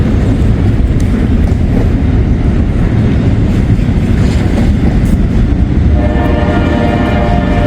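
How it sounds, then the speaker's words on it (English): A train rumbles steadily along the tracks, loud and close, with a continuous low roar and rattling, and a faint horn-like tone near the end. "The train is moving."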